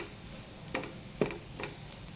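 A potato and egg bhurji stirred in a frying pan, with a steady soft sizzle of oil beneath a few spaced scrapes of the spatula, close and moderately quiet, no voices.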